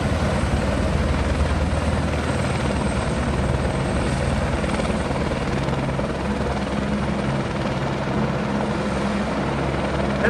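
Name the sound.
helicopter flying in at Grand Canyon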